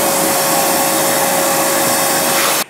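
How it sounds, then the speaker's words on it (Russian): A Kärcher vacuum cleaner built for construction debris runs steadily and loudly with a constant whine and broadband rush, cutting off abruptly at the very end; no voices. "И не просто Körcher для дома, а это именно для строительного мусора пылесос"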